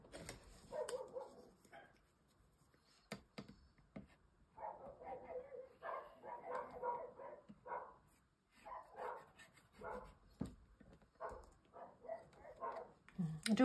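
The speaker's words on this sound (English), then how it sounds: "I do apologise if you can hear dogs barking." Several dogs barking outdoors in a garden, distant to moderate, in repeated bursts of yapping barks spread across the clip, with occasional sharp knocks and handling sounds nearby.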